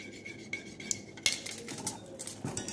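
Brownie batter is mixed in a bowl, with quick scraping and clinking of a utensil against the bowl in irregular bursts, close and moderately loud.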